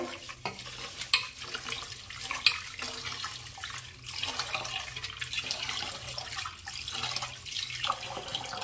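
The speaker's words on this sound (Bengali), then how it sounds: "আমি চালটা ধোবো।" Rice for Bengali veg bhuna khichuri is rinsed under a running tap, with a steady trickle of water, sloshing and stirring of grains by hand, quiet and close throughout.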